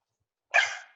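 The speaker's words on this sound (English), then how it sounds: "Sorry about the dog." One short, sharp dog bark pops out once during a township zoning board Zoom meeting, close and fairly loud, with silence around it and no voices.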